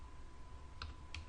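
Quiet typing on a computer keyboard, a few soft key clicks near the end over a faint steady hum, close and sparse.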